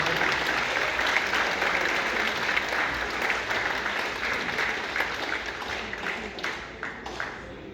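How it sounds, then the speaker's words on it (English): Audience applause at a youth soccer team banquet: a sustained, dense round of clapping from a crowd in a hall, fairly loud and steady, thinning slightly toward the end. "give a round of applause."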